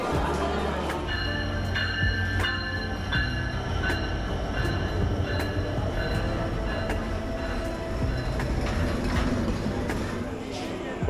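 A train bound for Jessore waits at a station platform in Saidpur before departure, a loud constant rumble with sustained metallic squealing tones and occasional sharp clanks, faint voices mixed in.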